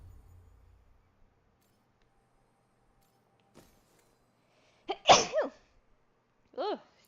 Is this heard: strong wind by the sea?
no